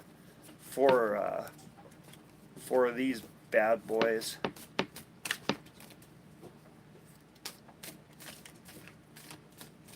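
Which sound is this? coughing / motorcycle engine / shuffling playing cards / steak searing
shuffling playing cards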